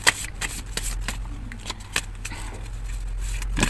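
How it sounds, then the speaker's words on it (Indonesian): Close shuffling of a deck of tarot cards, with a quick run of sharp riffling snaps and flicks against a steady low background hum. "Saya kocok dulu ya kartunya ya"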